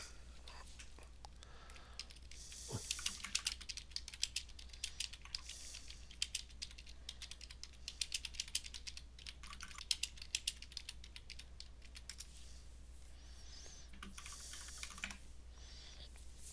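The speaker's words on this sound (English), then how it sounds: "I'll type it for you." Computer keyboard typing in quick, uneven bursts of key clicks, fairly close and soft, running through most of the stretch with brief pauses between flurries and no talk over it.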